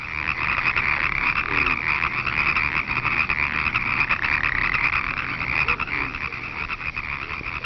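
Frogs croak steadily at a spring pond, a dense continuous chorus of calls held close and loud throughout with no voices.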